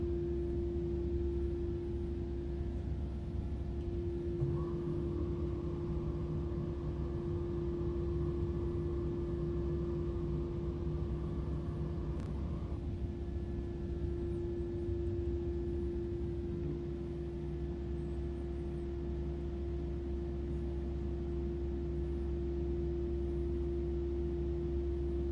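A steady, even airliner engine drone fills the cockpit while the aircraft is held on the brakes before a flight, a constant hum with no talk over it.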